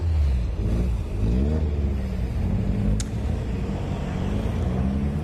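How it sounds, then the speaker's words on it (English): Caterham Roadsport race cars pull away from the holding area at Snetterton circuit, a steady blend of engine drone and rising revs held close and loud throughout, with a brief sharp click partway through. "The cars now leaving the holding area."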